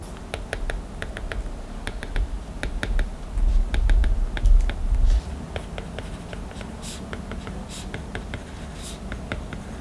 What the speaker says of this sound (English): it also makes the sound of writing on your iPad that much more realistic and satisfying